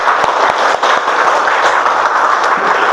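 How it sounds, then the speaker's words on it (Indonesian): A classroom of students clapping for a classmate, a dense burst of applause that stays loud and continuous for the whole few seconds. "Tepuk tangan dong buat temannya."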